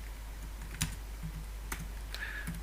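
Computer keyboard typing with sparse, quiet keystrokes and a few sharper clicks over a low steady hum.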